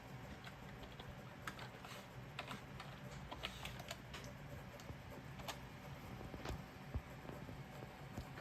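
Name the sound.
typing a password on a computer keyboard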